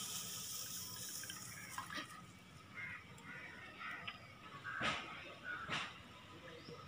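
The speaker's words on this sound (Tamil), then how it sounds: "இப்போ தண்ணி ஊற்றிக்கிறேன் அதுக்கு தேவையான அளவுக்கு." Water is poured into a bowl of semolina while making kesari, a soft, trickling flow with a few splashy pulses, faint and close, with crows cawing outdoors in the background.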